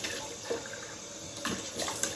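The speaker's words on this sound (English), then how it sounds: "Okay, cold water, or semi-cold." Cold water runs steadily from a tap, a continuous close splash and hiss with slight shifts in flow and no talking.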